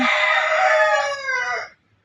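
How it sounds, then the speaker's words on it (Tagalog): A rooster of a large giant chicken breed crows once, loud and close, in a single drawn-out call lasting nearly two seconds that cuts off into quiet. "Yun ang manok."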